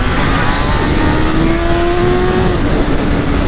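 A Honda CB1000 motorcycle accelerates in standard mode, its engine note rising steadily in pitch as it revs up, loud and close with a continuous rushing roar.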